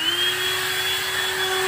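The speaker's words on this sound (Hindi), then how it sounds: "क्लीनर चालू हो चुका है दोस्तों।" A vacuum cleaner used for car interior cleaning runs with a loud, steady whine and a constant high-pitched tone, close up and uninterrupted.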